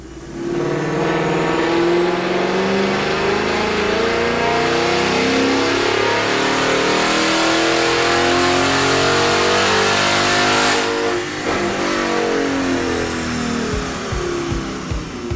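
A 2018-or-later Ford Mustang on a fully stock exhaust system makes a wide-open dyno pull, the engine note climbing steadily in pitch for most of the run, then dropping off near the end before a few short pops, loud and close.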